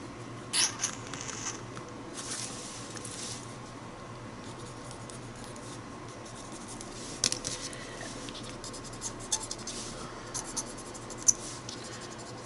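A pencil sketching on paper makes a soft, continuous scratching with small bursts of quicker strokes and occasional light taps, close and quiet throughout.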